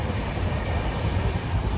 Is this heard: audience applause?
no